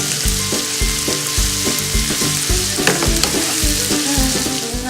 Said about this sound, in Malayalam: അങ്ങനെ നമ്മുടെ ഉള്ളിയെല്ലാം നന്നായിട്ട് മൂത്ത് വന്നിട്ടുണ്ട്.